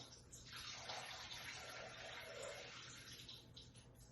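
Water pours steadily into the bowl of a Thermomix TM6 kitchen machine, a continuous soft splashing gush that is faint and close, with no talk.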